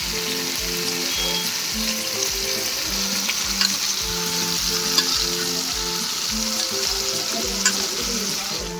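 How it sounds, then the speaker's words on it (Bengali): Mixed vegetables fry in a pan with tomato and salt for a Bengali veg dal, giving a steady close sizzle with repeated scraping stirs throughout and no talking. "দিয়ে দিচ্ছি ভেজে রাখা সবজি"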